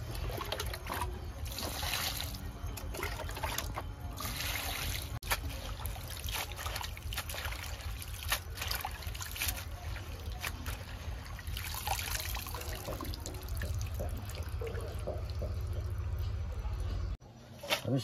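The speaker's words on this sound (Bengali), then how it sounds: "আমি শাকটা গোটা ধুয়ে নেবো আগে।" Whole spinach leaves washed under a running kitchen tap, a steady close trickle and splash of water lasting throughout, fairly quiet, with some background handling noise.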